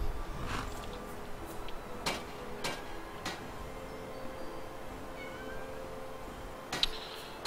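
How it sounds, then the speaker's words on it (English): A small house cat meows near the microphone indoors, with sharp ticking clicks scattered around the calls in an otherwise quiet room. "I'm being meowed at"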